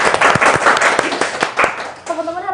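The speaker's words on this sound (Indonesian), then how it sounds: "Boleh dong yang di studio tepuk tangan dulu dong." A studio audience at a campus talk show breaks into a short round of clapping, loud and close, which fades out as a voice begins speaking near the end.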